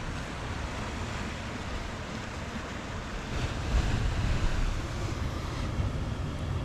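Sea waves wash steadily against a UK coastline in April, a continuous broad rush that swells louder for a moment midway, with wind buffeting the microphone and no voices.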